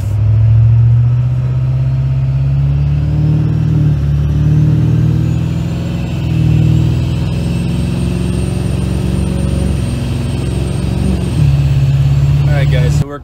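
An LB7 Duramax diesel truck fitted with a WoldFab 64mm turbocharger drives along in heavy rain, heard from inside the cab as a deep, steady engine drone with a faint rising turbo whistle and a brief surge near the end.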